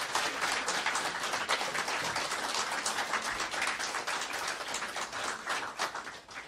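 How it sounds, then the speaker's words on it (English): Audience at a divine service during a rally weekend giving a round of applause for guests, a continuous, crackling wash of many hands clapping that holds steady for several seconds, no voices over it. "I think our guests need a round of applause for what they've done"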